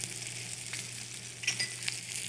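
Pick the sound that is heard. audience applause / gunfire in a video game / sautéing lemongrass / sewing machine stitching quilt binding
sautéing lemongrass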